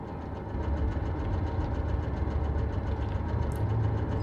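A generator running in the horror game The Dark Pictures: Man of Medan, a steady mid-pitched engine drone with a rapid rhythmic knock, loud and continuous after a brief quieter start, with no talking over it.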